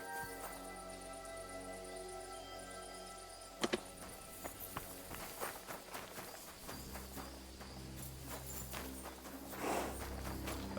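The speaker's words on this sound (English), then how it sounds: "That is a horse." Horse hooves clip-clop at a walking pace in the video game Kingdom Come Deliverance II, steady repeated steps over a constant game ambience with insects and crickets, and no talking.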